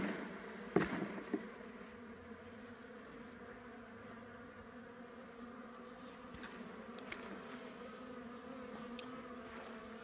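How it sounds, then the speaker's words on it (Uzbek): Honeybees are shaken off a hive frame into the hive, a steady close buzzing drone of many bees with a brief thump near the start. "Endi bu romni endi arisini silkib ichkariga tushiramiz"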